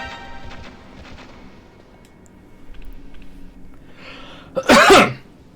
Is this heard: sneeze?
yes